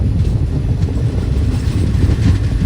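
A passenger train rolls steadily at slow speed on the line between Tiruvannamalai and Tirupati, a loud continuous low rumble of wheels and carriages heard from close by.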